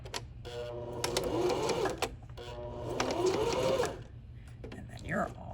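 Sewing machine running two bursts of back stitching, a fast mechanical whirring chatter that rises and stops, with a short pause between runs and faint handling noises after.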